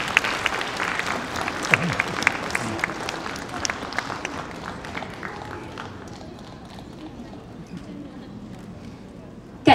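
Applause from an audience at a community Spring Festival gala honouring dance performers, a dense patter of clapping mixed with talk that gradually thins and fades toward the end.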